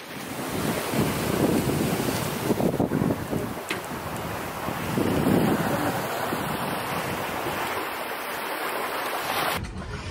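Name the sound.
wind and big waves while sailing a trimaran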